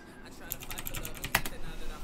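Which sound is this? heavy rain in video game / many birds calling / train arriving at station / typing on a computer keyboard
typing on a computer keyboard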